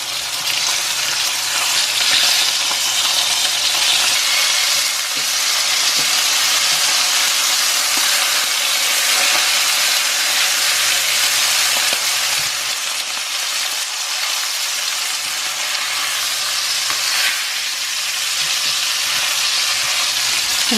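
Rainbow trout fillets frying in a pan make a loud, continuous hissing sizzle with steamy crackle that holds steady for about twenty seconds, close up and with no voices.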